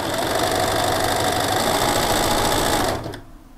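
A Bernina B590 sewing-embroidery machine stitches at maximum speed, a fast, even mechanical whir that runs close and steady before winding down and stopping near the end.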